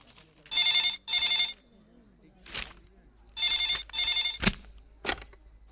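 A telephone bell rings in short bursts, two rings, a pause, then two more, with a few brief knocks and clicks between them.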